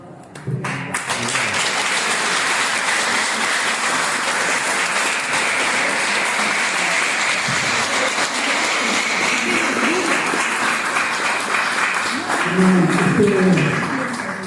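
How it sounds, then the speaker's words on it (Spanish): Audience applause at a book presentation in Catamarca: a sustained, dense round of clapping from a seated crowd lasting over ten seconds, steady throughout with a brief voice murmuring near the end. "Este aplauso colmado de gratitud"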